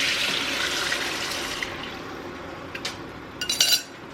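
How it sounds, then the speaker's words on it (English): Homemade broth poured into a hot pan, a steady liquid hiss and splash that thins out toward the end, followed by a few short clinks near the close. "Now we're going to add in our broth that we just made."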